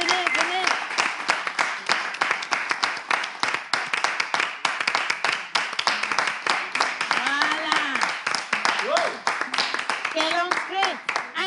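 A studio audience on a French television talk show claps steadily and densely throughout to welcome an artist, with voices and exclamations rising over the applause.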